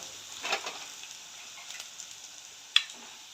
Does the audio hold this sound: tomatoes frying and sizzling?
yes